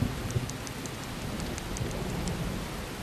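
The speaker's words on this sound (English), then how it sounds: "It's starting to rain." Rain falls in the video game Disaster: Day of Crisis as a steady, moderate hiss of drops, with a few faint higher ticks spaced through it and no talk.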